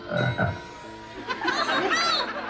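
Cartoonish frog croaks from a 1982 Silver Spoons TV scene, a series of low, throaty croaks up front followed by higher warbling calls, fairly loud and close with no talk over them.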